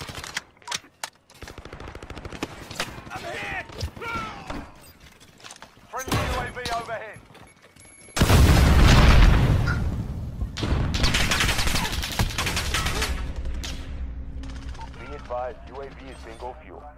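Gunfire and explosions in the multiplayer shooter Call of Duty Modern Warfare, with loud bursts and booms that swell and fade over ongoing game audio and voices talking throughout.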